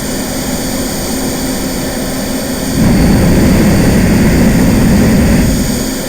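A loud, steady synthesized jet turbine roar with high whining tones swells louder partway through and holds, with no voices.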